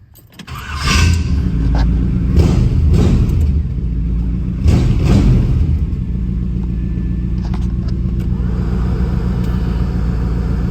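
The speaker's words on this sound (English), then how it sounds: "The car starts up and runs like a watch." A 1955 Oldsmobile 88, refitted with a 350 engine and 700R4 transmission, cranks, catches and settles into a loud, steady idle, with a couple of brief revs early on before it runs evenly close by.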